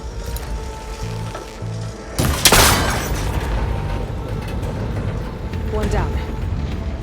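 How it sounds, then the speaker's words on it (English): In the game Horizon Forbidden West, a shot connector holding cables together snaps with a sudden loud burst, followed by crackling debris and a steady mechanical rumble. "That connector's holding the cables together. It should break if I shoot it."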